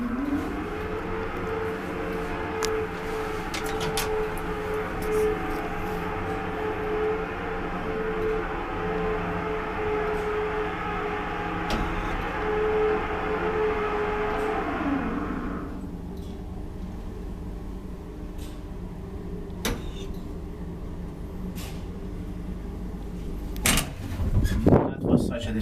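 Old Valmet traction elevator running with a continuous mechanical hum and rumble that cuts off partway through, followed by quieter machinery, clicks and a final clatter, with people talking faintly.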